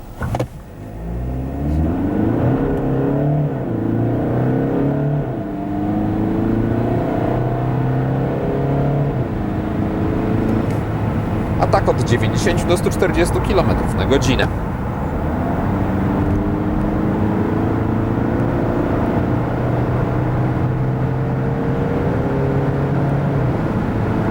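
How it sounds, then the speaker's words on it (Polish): A Skoda Octavia 2.0 TDI 150 hp diesel, 2025 Sportline facelift, accelerates hard from standstill to 100 km/h, its engine note rising steadily through the gears with brief shift dips. It is loud and continuous throughout, with no talking. "Pod kątem dynamiki samochód pozwala w ten sposób przyspieszyć od zera do setki."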